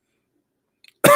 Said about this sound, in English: should I cough more so people understand?